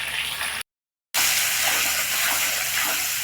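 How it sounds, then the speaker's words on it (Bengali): Onion and green chili hitting hot oil for homemade chowmein, a loud steady broadband sizzle that breaks off briefly and then resumes, close and continuous with no talking. "তেল দিয়ে দিলাম, পেঁয়াজটা দিলাম,"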